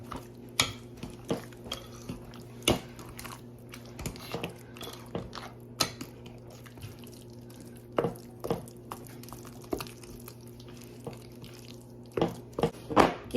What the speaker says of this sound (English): I'm just going to take all this and mash it together with a good old tater masher